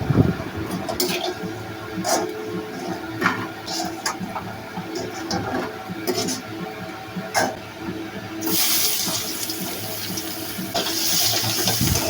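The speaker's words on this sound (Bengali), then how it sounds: "মাছ ভাজা তেলের মধ্যে কুমড়ো বড়িটা একটু লাল করে ভেজে নেব" Pumpkin bori fry in the oil left over from frying fish, a steady close sizzle with scattered small clicks that grows noticeably louder and brighter partway through.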